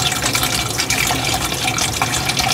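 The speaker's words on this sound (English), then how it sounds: "and then I'm gonna add the salt water" Salt water pours steadily into a container for a phytoplankton (Nannochloropsis) culture, a continuous close splashing, gurgling fill lasting a few seconds with no talking.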